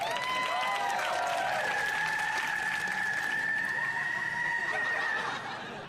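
A crowd claps and cheers loudly, with scattered laughter and a high, sustained whistle-like tone over the applause. The noise tapers off at the end.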